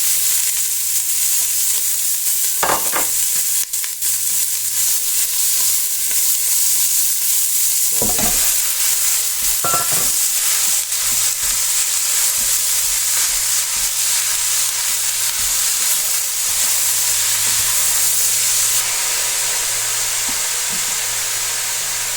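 Onions fry in oil in a saucepan, giving a steady, close sizzle and hiss with a few brief stirring scrapes and clinks. Meat-stuffed bread is being cooked, and no one speaks.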